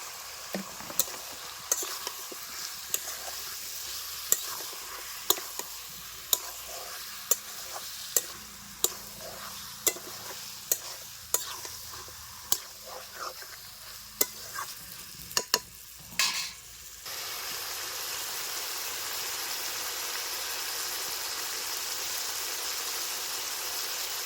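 Chopped garlic, slit green chillies and onions fry in a pan for a mutton curry, a crackling sizzle punctuated by regular sharp spatula knocks, then a steadier, louder hiss once the stirring stops, with no voices.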